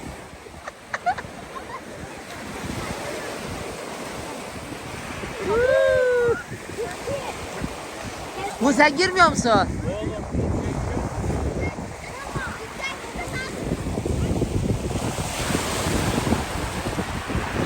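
Waves wash and break steadily in the background with some wind buffeting the microphone, while people talk and laugh over the surf.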